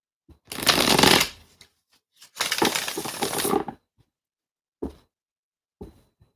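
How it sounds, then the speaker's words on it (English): Tarot cards are shuffled close up in two crisp riffling bursts, followed by a few light single taps as the deck is squared. "me just shuffle this."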